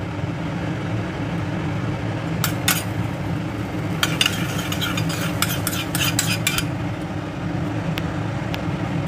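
Amritsari Punjabi chole get mixed in a pot with a spoon, sparse metallic scrapes and clinks over a low steady background hum, no talking.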